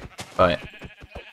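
A Minecraft sheep gives a short bleat, close and clear, with a voice talking just before and after it.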